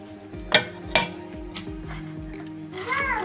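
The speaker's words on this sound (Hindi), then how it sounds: "ये अब मिक्स कर रहे हैं हलवे के अंदर" A spoon scrapes and knocks through thick carrot halwa in a pan, giving a few sharp clinks of metal on metal among soft dragging sounds, close and moderately loud, with a low hum running underneath.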